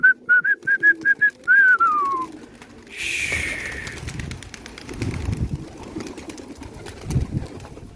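Multani pigeons released into a strong wind give a run of clear, close whistle-like calls, followed by a rush of flapping wings and gusting air.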